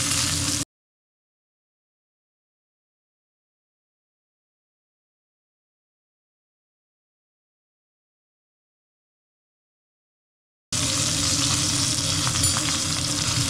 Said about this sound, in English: we're going to baste it with some of this butter and pan juices for about a minute